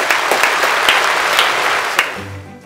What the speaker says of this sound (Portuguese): Palmas pro Yasser Gamer